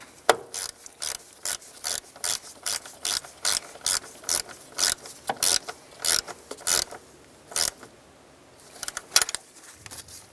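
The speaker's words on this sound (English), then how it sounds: "All right, let's go ahead and snug this up." A ratchet snugging a nut on an EGR tube stud of a 2006-10 Ford Explorer, with rapid clicking bursts repeated in a steady rhythm of short strokes, close and clear, with no talking.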